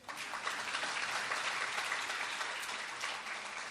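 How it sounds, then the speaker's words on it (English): Steady, dense clapping from an audience at an English spiritual discourse on the Mahabharata, loud and continuous with no pauses for nearly four seconds. "Louder clap."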